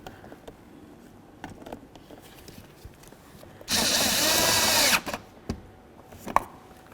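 A power tool runs in one loud burst of just over a second, driving a bolt into a 2006–2012 Ford Fusion door during a mirror switch replacement, framed by quiet clicks and handling noises.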